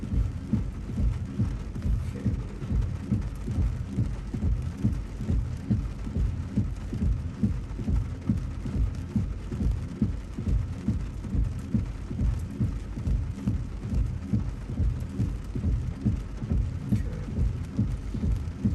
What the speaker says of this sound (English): there's just so much rain everywhere, I can hardly see stuff